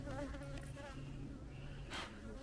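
Bees buzz continuously at low volume during a honey harvest after morning rain, few bees present, a steady hum with faint wavering tones, quiet and fairly close.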